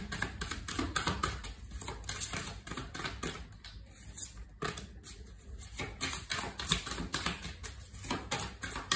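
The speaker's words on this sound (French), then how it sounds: "les cartes, une par une, s'il vous plaît. Une par une, une par une." Tarot cards are drawn and laid down one by one, making a rapid, dense patter of light taps and slaps close by that continues almost without pause.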